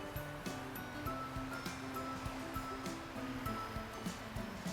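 Ocean waves with white crests break against rocks in a continuous, close, broadband wash of surf that rises and falls slightly, with no voices.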